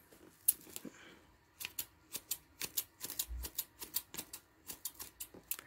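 Scissors snip through plastic wrap in a rapid, rhythmic run of sharp clicks and crunches, a dozen or more close cuts following a few scattered snips, while making a homemade ball.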